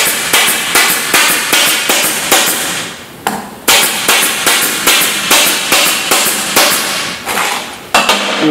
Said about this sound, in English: I don't know how many staples I just fired